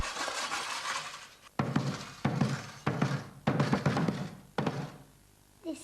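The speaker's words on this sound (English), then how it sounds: "It is a calabash drum." Calabash drum with pebbles inside, a few hollow thumping strikes spaced about half a second apart, each with a rattling, gritty wash over a faint background hiss.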